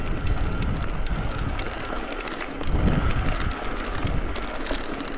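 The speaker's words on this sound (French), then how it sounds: "Il y a un peu de vent." Steady wind rumble and gusts buffet the microphone during a mountain ride on an electric-assist mountain bike near the Col d'Ibardin, loud and continuous with faint rustling and no talk.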